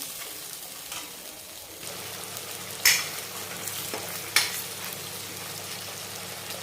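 Masala mixed with ground cashew-almond paste sautéing in a pan for chicken murg musallam, a moderate steady sizzle with two sharp spoon clanks against the pot and soft stirring scrapes, close up with no voices.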